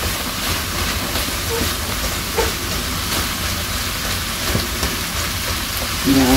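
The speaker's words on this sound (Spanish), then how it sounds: "miren cómo se está cocinando el ajo" Garlic cooks in a pan for a quinoa pastel, giving a steady, even hiss that fills the whole stretch with no voices over it.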